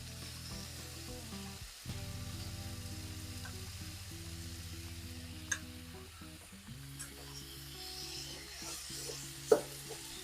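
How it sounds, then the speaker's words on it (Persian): Tomato paste fries in a little oil in a pot for okra stew, giving a soft, low sizzle with faint scraping stirs and an occasional clink, quiet and close throughout. "قبل از اون رب رو میریزم که ربم تفت بخوره"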